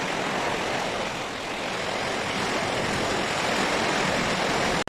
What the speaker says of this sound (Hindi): बारिश शुरू हो चुकी है और बहुत ही खूबसूरत मंजर है बारिश का